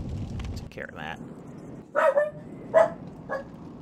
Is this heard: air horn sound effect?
no